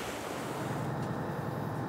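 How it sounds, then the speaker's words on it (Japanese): Strong wind and waves batter a rocky shore on Oki Island, making a continuous rushing roar that stays fairly faint and even throughout, with no talk. "次第に波風が強まり、続行が困難に。"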